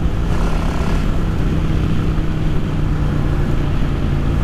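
A Yamaha XVS V-twin motorcycle with a Dynatek 3000 performance ignition runs loud and close, its engine holding a steady, rough drone throughout with no other sound on top.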